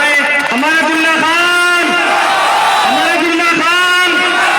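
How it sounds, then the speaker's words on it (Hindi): Rally crowd in Okhla, Delhi greeting MLA Amanatullah Khan, loud massed voices chanting a slogan in repeated rhythmic bursts over a continuous background roar, close and strong. "आप लोग तालियों से इस्तकबाल करें और एक बार नारा लगाएं"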